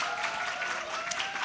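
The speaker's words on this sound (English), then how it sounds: "Big applause for Mr." Short, steady round of audience clapping at a biology education seminar, fairly soft and continuous with no talk over it.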